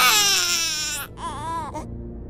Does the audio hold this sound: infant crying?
yes